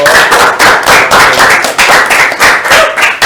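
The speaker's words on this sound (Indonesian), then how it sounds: "Tepuk tangan lagi dong." Students at an Indonesian high school youth-parliament talk show applauding, loud close claps swelling in repeated bursts over a few seconds, with no talking.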